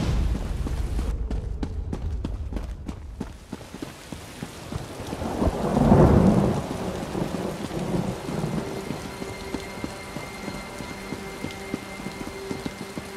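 Heavy rain and repeated thunder rumble through a storm at sea in The Elder Scrolls Online, with crackling strikes early and a swelling roll of thunder midway, rain hissing continuously.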